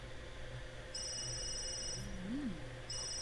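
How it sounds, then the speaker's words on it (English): A phone rings in The Sims 3, a bright electronic tone that sounds in a sustained burst, pauses, then starts again, over a low steady background hum. "Is that Adam's phone"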